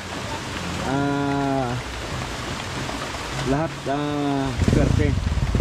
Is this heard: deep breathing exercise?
no